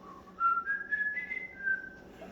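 A person whistles a short rising melodic phrase, a few clear sustained notes, close and fairly soft in a quiet room.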